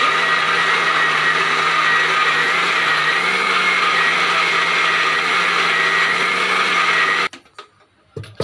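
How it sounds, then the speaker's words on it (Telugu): A mixer grinder whirs loudly, blending beetroot with water and two cardamom pods into juice. The steady, close motor roar runs unbroken for about seven seconds, then cuts off abruptly into near quiet. "బీట్రూట్ జ్యూస్ అయితే మిక్సీ చేస్తారండి"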